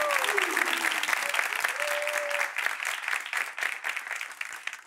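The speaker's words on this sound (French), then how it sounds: "Applaudissements pour vous-même, chers amis du public" Sustained audience applause at a live talk-show taping, dense and steady for the whole stretch with a faint voice briefly audible over the clapping.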